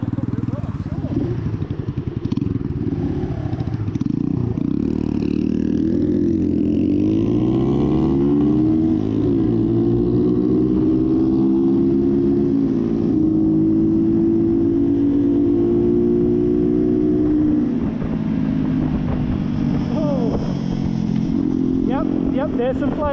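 A motorcycle engine runs loud and close for over twenty seconds, with exhaust popping as flames shoot from the pipe, shifting in pitch as it revs while people talk over it.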